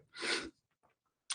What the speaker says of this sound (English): I think there's something dusty here that's making me sneeze.